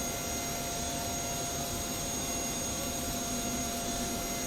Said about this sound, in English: Engine 2, boost pump on, starter engaged,